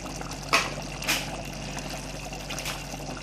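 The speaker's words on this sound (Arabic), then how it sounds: "فهزودها ان شاء الله دلوقتي على طول الميه بتاعتها" Water is poured into a pot of okra and meat stew, a faint trickling and splashing with a few brighter spurts over a low steady background.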